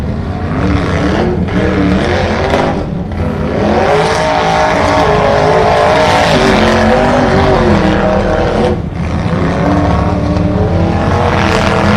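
An off-road rock racing vehicle grinds and roars up a rocky hillside course at an offroad park, engine loud and close with revving surges and brief dips as it climbs.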